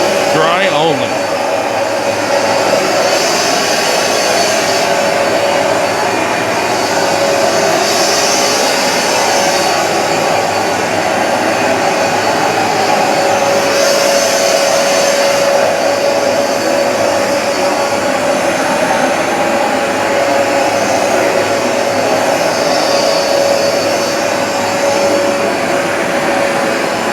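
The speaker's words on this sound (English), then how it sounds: "machine does have Hoover's heat force drying, which blows hot motor exhaust onto the carpet" A Hoover Smartwash Pet XL carpet cleaner runs in dry-only mode, its motor blowing hot exhaust onto carpet; a loud, steady whirring drone with a high whine holds constant throughout, alone without any voices.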